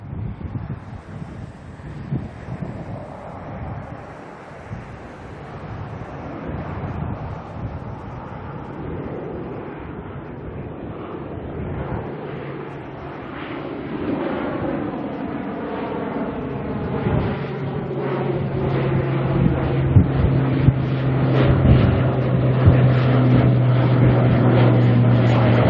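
An ATR turboprop departs Auckland Airport and climbs overhead, its drone rising from wind-buffeted rumble into a louder, nearer propeller hum with a steady tone and pulsing harmonics.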